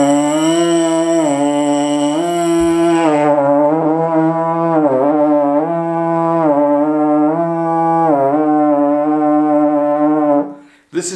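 A bass trombone played with a buzzing technique gives a long, buzzy, strained tone, loud and near, wavering and bending in pitch over about ten seconds before cutting off abruptly.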